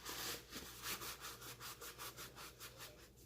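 A cloth wipes oil off the blade of a new Maxace Midnightcat Covenant V2 folding knife, making soft, close rubbing strokes in a steady back-and-forth rhythm, with a faint low hum underneath.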